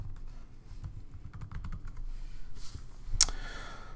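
Password keys typed on a Mac computer keyboard, a steady run of light, close clicks across the whole stretch with one sharper, louder tap near the end, no talking.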